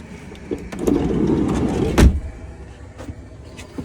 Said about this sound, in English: just shut this door.